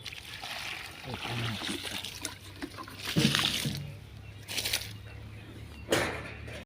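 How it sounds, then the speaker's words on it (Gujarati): A bucket of water is tipped out into a drain, giving a sloshing, splashing pour with a few louder surges, heard close over a bed of trickling with faint background sounds. "એક બીજી ડોલ રેડી દઈએ"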